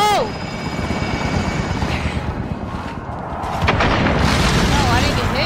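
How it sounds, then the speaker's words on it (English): A precision airstrike in Call of Duty: Modern Warfare's Plunder mode: a loud, sustained roar of aircraft and rotors with heavy booms, swelling louder near the end amid busy game noise. "Enemy precision airstrike."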